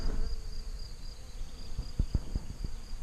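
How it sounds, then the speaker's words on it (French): Bees swarming over blooming borage flowers in a Vosges garden: a steady, close insect buzz hums throughout, with a few soft low thumps near the end and no talking. "Voilà, ça grouille d'abeilles"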